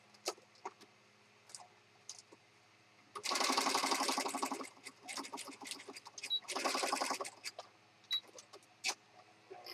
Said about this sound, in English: So I just zigzag stitched over that just to help hold it in place.